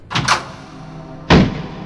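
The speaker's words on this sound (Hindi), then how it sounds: "मयंक ने अपने घर का दरवाजा खोल के देखा" A house door opens with a couple of quick clicks of the latch and handle, followed a moment later by a louder, close thump as the door swings or knocks. There is quiet room tone between the sounds and no talk.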